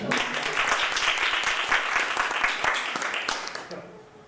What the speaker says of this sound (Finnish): Aplodit Raville.